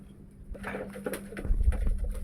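Pigeons coo softly at close range on a pigeon farm, with low burbling calls rising toward the end over faint background rustle.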